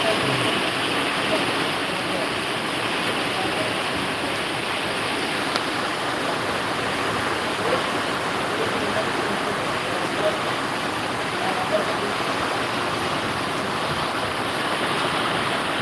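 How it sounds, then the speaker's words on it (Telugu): A small flood of rainwater flowing through a village during heavy rain, a loud, steady rushing wash of water that continues unbroken and close by. "చిన్నపాటి వరద అయితే ప్రారంభమైంది చిన్నపాటి వరద కొనసాగుతుంది"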